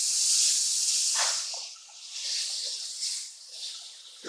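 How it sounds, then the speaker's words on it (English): Ground beef dropping into a skillet preheated over medium-high heat, giving a loud bright hiss of sizzling that swells and eases in waves as the meat goes in, close up, with no talk. "To this, we are going to add in our ground beef."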